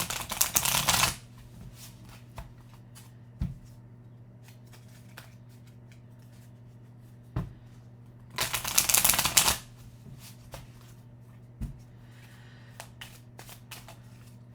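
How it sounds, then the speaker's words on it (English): Playing cards riffle in two bursts, one short and one longer, with a few sharp taps and bridging clicks between them over a low steady hum in a quiet room. "I've been shuffling"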